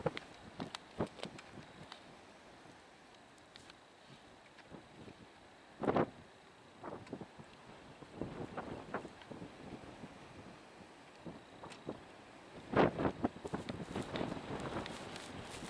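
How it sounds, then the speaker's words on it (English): Strong wind of about 20 miles an hour buffets the microphone outdoors on a cold walk, a low steady rushing broken by sharp gust bursts and thumps, with faint footsteps beneath. "Wind's blowing about 20 miles an hour."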